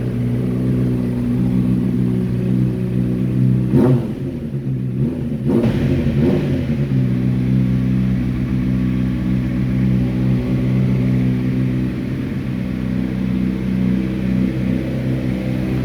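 A Honda Click 125 scooter engine idling steadily at close range, a loud continuous low drone with a brief dip and wobble in revs partway through, then settling back to an even hum.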